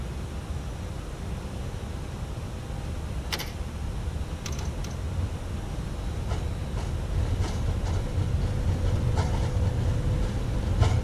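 An Airbus airliner rolls down runway 25 center on its takeoff run in a flight simulator, a rumbling roar that builds gradually in loudness with occasional rattling clicks and thumps.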